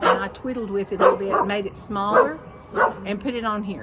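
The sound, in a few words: dog Winston barking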